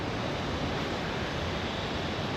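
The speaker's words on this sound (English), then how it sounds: "You can see all that water running down." Water runs down steps at a condo complex in Hanoi Smart City, Vietnam, making a steady, even rushing wash that fills the short stretch with no voices.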